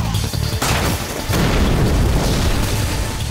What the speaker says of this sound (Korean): 엄청난 폭발입니다!